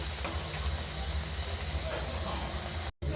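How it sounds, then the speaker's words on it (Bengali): Pea-stuffed kachori fry in hot oil in a pan on a stove, giving a close, steady sizzling hiss that runs on evenly before cutting out briefly at the very end. "এখন আমি এগুলো তেলে ভেজে নেব"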